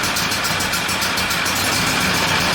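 A Husqvarna lawn mower engine runs close by with a dense, steady buzzing drone and a fast, even rhythm, its choke still on, loud throughout with no voices.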